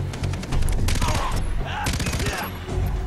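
Rapid rifle gunfire in the jungle shooter Far Cry 3, dense bursts of loud shots nearly continuous across the whole stretch, with a faint voice underneath.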